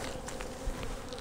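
Honey bees buzz steadily around a hive entrance, a dense close-up drone of many insects holding level throughout the short stretch.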